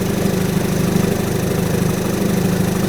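A 30 HP Evinrude E-Tec outboard motor runs at a steady idle, its low, even engine drone and vibration close and loud with no talking.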